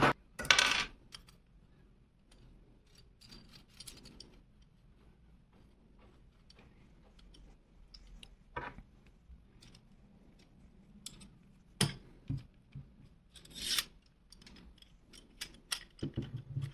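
Assembly of a Ganzo Razor Pro knife sharpening stand: sparse metallic clicks, taps and clacks of parts being fitted together, quiet and close, with short pauses between the sharper knocks.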